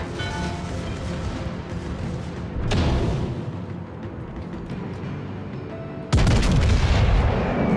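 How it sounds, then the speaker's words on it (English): Naval cannon fire from the enemy German cruiser Nuremberg in World of Warships, heavy booming salvos that land twice as loud deep thuds with rumbling tails over a continuous background of engine and battle noise. "Enemy Nuremberg is starting to open up on me"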